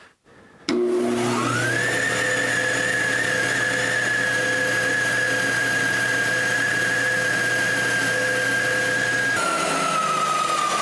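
A disc sander squaring the edges of a segmented wooden coffee mug: the motor spins up sharply, then holds a steady loud whine and hum with workpiece contact, shifting pitch briefly near the end.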